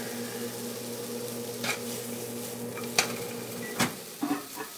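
Apple and onion cook in a pan with a soft, steady sizzle. A low hum runs underneath, and a few sharp clinks and scrapes of a utensil against the pan stand out.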